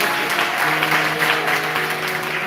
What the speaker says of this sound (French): Des applaudissements pour elle